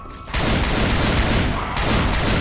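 Repeated shotgun blasts in the Left 4 Dead 2 campaign The Passing, loud and continuous over dense game noise, the firing starting abruptly after a brief quieter moment and carrying on throughout.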